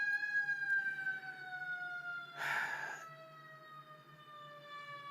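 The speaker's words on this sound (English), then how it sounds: "Sirens keep going by, and I'm sorry if you guys can hear that if the mic is picking it up" Emergency vehicle sirens pass through a residential neighborhood, a continuous wailing tone sliding steadily in pitch, moderately loud and steady for several seconds with a brief louder burst of noise in the middle.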